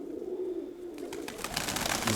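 Pigeon cooing inside a loft, a low throaty coo running through the clip, close and steady, with some rustling and brighter clatter building toward the end.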